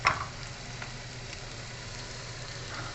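Onions frying in a pan for a pork and vegetable dish give a steady, soft sizzling hiss with a low background hum, and a brief sharper crackle at the very start.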